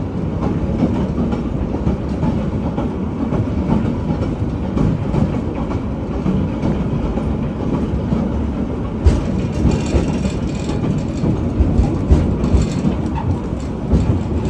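A Hawaiian Railway Society train rolls along toward Ko'olina Station, its steady rumble and rhythmic clickety-clack continuing unbroken and fairly loud throughout, with no talking.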